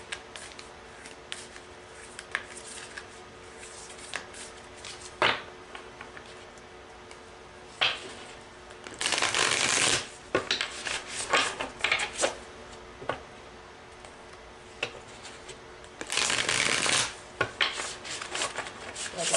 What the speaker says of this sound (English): let's go ahead and end your reading with a final oracle card